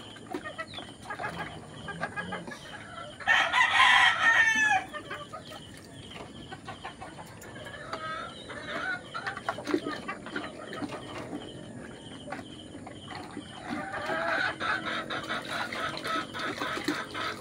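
Chickens on a poultry farm cluck on and off at close range, with a louder burst of squawking early on and more clucking building toward the end, all without anyone talking.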